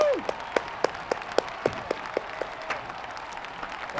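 A small group claps during an online training session, a few distinct sharp claps ringing out over a steady background hiss rather than a full crowd ovation.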